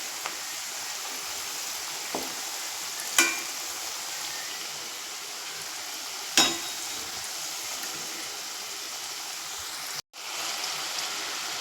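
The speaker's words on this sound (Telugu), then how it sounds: "ఇవి బాగా బ్రౌన్ కలర్ రావాలి, అందాక వేపుదాము." Potato finger chips frying in hot oil, a steady soft sizzle with a few faint clicks of stirring, alone without talk.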